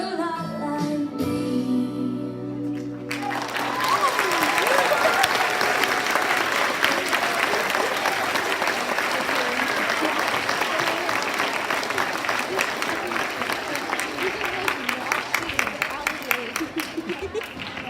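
After singing ends, a school assembly audience breaks into loud, sustained applause for student singers, dense clapping from a large crowd in a hall that thins slightly toward the end.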